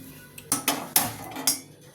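A kadai pan being set down on a gas stove, giving several sharp metallic clanks and clatters close by, spaced over about two seconds, with no talking.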